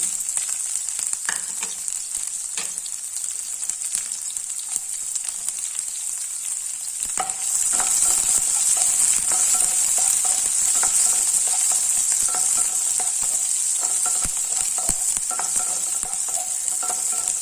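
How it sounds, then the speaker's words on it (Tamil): Onion sautéing in a pan for a tomato and capsicum variety rice, a loud continuous hissing sizzle that grows stronger partway through, with occasional stirring clicks. "வெங்காயம் ரொம்ப வதங்கணும்னு அவசியம் இல்லை"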